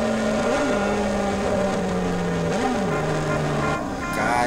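A Honda CB1000 motorcycle engine in GTA San Andreas holds a loud, continuous drone with a few quick revving swells and a steady throttle, alone without talk.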